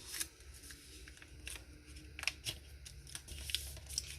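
Paper being folded by hand for a junk journal pocket, soft scattered crinkles and rustles close up at low volume.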